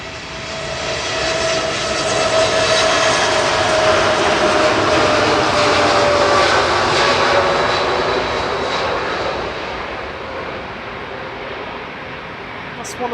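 Airliner taking off at Manchester Airport, a loud sustained jet roar that swells and then slowly fades as it climbs away, heard outdoors from a distance with occasional voices.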